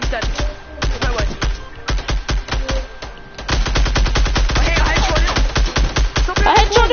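Rapid automatic gunfire in Fortnite rattles out in fast bursts with short gaps, then runs as a long continuous stream of sharp, loud shots, with a voice talking partway through.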